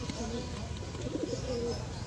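Pigeons coo softly in short rounded calls at a Konnogor bird market, heard close and moderately quiet over a steady background murmur with voices.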